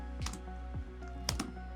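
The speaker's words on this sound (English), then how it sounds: "I am typing the name as Java course." A computer keyboard is tapped in a few separate keystrokes, crisp clicks spaced unevenly over a steady low electrical hum.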